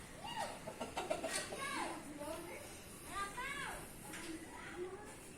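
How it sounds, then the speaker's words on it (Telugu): Hens clucking and calling in short rising-falling phrases, fairly faint, near a wooden-built structure, mixed with distant voices of people and children. "ఇక్కడ కోళ్ళు కూడా ఉన్నాయి ఫ్రెండ్స్"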